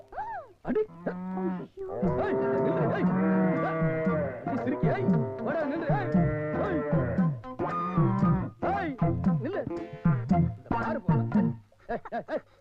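A cow lows repeatedly in long, loud moos, close by, with brief gaps between calls and no talk over them.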